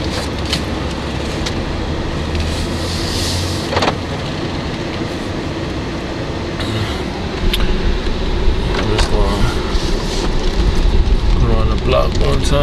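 A BMW X5 E70 driven on the road, its engine and tire rumble steady and close from inside the cabin and swelling louder partway through, with a voice talking over it.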